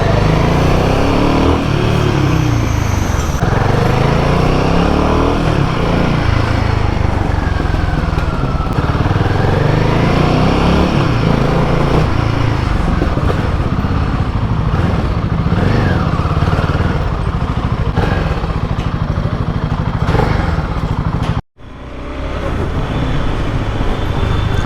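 Royal Enfield Himalayan 450 motorcycle riding through traffic, a steady loud engine drone with shifting revs and road noise throughout, cut by a brief dropout near the end.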